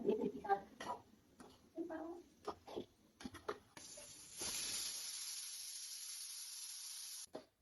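Muffled clattering and a voice give way to a sustained loud hiss of escaping steam from a pressure cooker, then it cuts off abruptly.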